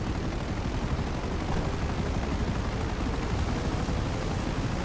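A new aircraft from the Grand Theft Auto V Smuggler Run DLC, its engine giving a loud, steady roar mixed with the clatter of rapid gunfire, unbroken throughout and with no voices.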